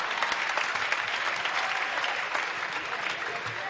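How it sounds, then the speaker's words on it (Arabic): Applause from a live audience at a comedy sketch show, steady dense clapping sustained throughout without a break. "صفقوا ما ضحكوش."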